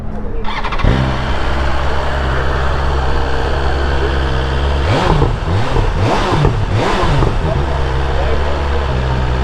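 Two stock sport motorcycles, a BMW S1000RR and a Kawasaki ZX-10R, with an engine firing up and then idling loudly and steadily nearby, broken by a few sharp throttle blips in the middle.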